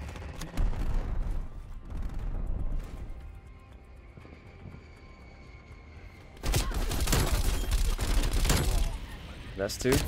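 Bursts of CARV.2 tactical rifle fire in Black Ops Cold War, with a busy stretch early on and a louder, denser run of shots near the end, mixed with game sounds and someone talking over it.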